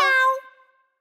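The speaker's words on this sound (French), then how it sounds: "Miaou, miaou, c'est comme ça qu'un chat miaule." A single short, bright cat meow, clear and close, fading out quickly into silence.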